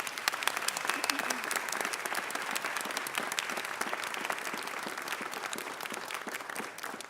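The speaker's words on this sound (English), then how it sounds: "Let's give our country a round of applause." Fairly quiet but sustained audience applause at a Black History Month kick-off event, with dense, crisp clapping continuing evenly for about seven seconds.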